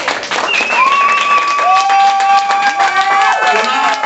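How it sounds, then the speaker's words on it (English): An audience claps steadily at an ally appreciation dinner, the dense applause filling the room continuously while voices and tonal sounds ring out over it. "Everybody's clapping,"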